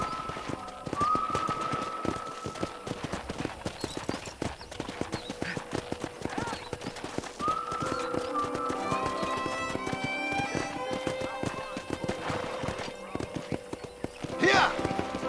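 Hooves clip-clop in a fast, continuous rhythm as a horse is ridden in Red Dead Redemption, with game music and character voices talking over the hoofbeats throughout.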